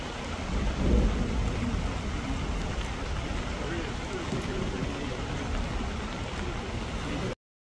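Steady rain falls with low rumbling thunder during an outdoor memorial ceremony for Korean War civilian victims in Changwon, a dense continuous wash with a swell of rumble early on.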